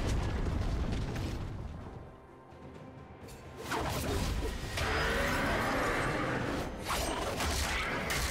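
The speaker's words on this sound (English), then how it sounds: "team's turret has been destroyed" A turret being destroyed in the League of Legends video game: crumbling, explosive rumbles and whooshing swells mixed with busy battle effects, loud and sustained, with a brief lull before the destruction noise rises.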